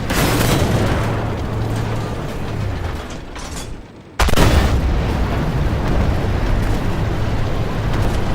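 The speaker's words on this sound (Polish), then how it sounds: "Jeszcze jeden strzał." A T54 tank's main cannon in the Armored Warfare video game fires with loud, heavy booms. Rumbling engine and battle noise drop briefly, then a sharp blast cuts back in and the din carries on.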